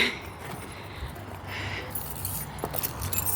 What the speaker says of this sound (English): Get the keys out.